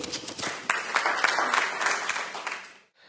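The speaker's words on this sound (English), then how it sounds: "So applaud to them also." Audience applause at a metallurgy industry function, a dense burst of clapping from a crowd that continues for nearly three seconds before stopping abruptly.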